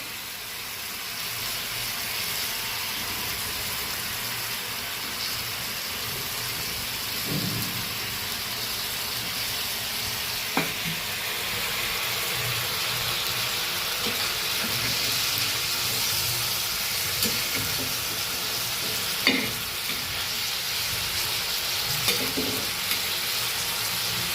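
Fish sizzle and bubble as they fry in a gravy in a pan outdoors by a river. A steady, dense frying hiss runs throughout, with a few faint clinks and stirring sounds.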